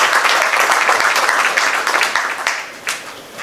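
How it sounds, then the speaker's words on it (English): Audience applause at a ZB MasterCard launch event, loud and dense clapping close by that holds steady for several seconds, then begins to thin toward the end. "A round of applause for our regulator, please."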